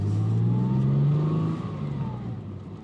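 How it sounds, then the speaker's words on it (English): A restored classic fast Ford's engine revs up close, climbing in pitch and holding briefly before easing back down as the throttle drops, loud and alone. "Engine sounds beautiful now and it's performing like it should be doing"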